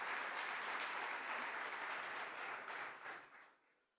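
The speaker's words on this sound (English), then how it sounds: "you're not clapping very much" Steady, dense clapping from a ceremony audience fills the room, holding even and full before tapering off at the end.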